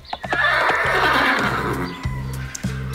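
A horse gives a loud, close whinny that rises and fades over a few seconds, while hooves clip-clop in short bursts underneath.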